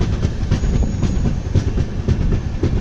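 A train rolls along the rails near a station, its wheels keeping up a steady clickety-clack with metallic rumble, loud and close. No voices are heard.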